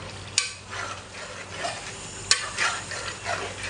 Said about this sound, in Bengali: মাংসটা একটু কষাইতেছি